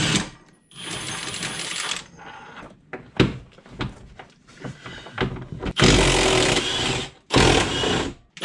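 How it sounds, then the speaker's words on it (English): Power tool, likely an impact wrench, loosening rear subframe bolts on a BMW E46 wagon in a garage, heard as several loud bursts of whirring and rattling separated by clanks and quieter handling noises. "I'm just gonna take the four subframe bolts out"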